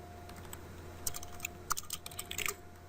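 A command is typed on a computer keyboard, a quick run of light, crisp keystrokes over a steady electrical hum, close and fairly quiet.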